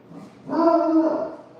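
A dog gives one drawn-out whimpering, whining bark, tonal and fairly close, lasting under a second against a quiet background.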